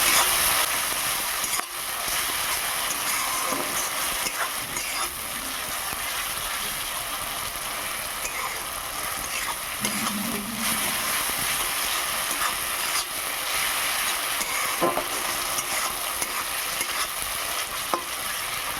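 Ginger garlic masala sautés for a Kajol Gouri fish curry with mustard, giving a dense, continuous frying hiss with occasional stirring scrapes, close and steady throughout with no voices.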